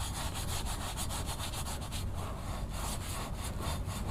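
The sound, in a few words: rubbing abrasive foam polish onto a car exhaust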